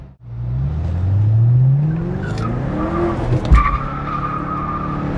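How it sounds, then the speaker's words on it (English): A car does a tire burnout, spinning its wheels with a loud, close screech of rubber over a revving engine, and the squeal rises and shifts as the tires slip. "It'll give me a chance to do another burnout."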